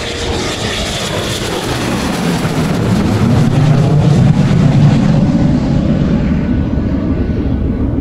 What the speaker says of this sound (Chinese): 那边有飞机在降落啊，我看飞机下来了。